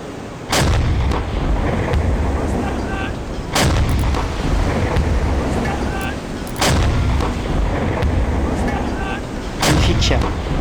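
Submarine deck gun fire in the naval video game Silent Hunter 5: four loud, evenly spaced booming shots about three seconds apart, each with a sharp crack and long rumbling tail over steady sea and engine noise.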